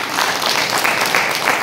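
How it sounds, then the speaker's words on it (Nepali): A church congregation applauds, a close, even burst of many hands clapping that carries steadily through without pause. "ताली बजाउने उहाँको लागि।"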